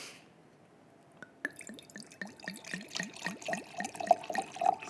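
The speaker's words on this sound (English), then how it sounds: "we're gonna do our ASMR pour" Yellowtail Chardonnay poured into a glass, heard as a quick run of close, quiet glugs that rise steadily in pitch as the glass fills, starting after a moment of near silence.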